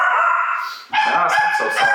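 Dogs bark loudly and close by in an indoor podcast setting, one sustained bark followed by a series of rapid overlapping yelps with no speech in between.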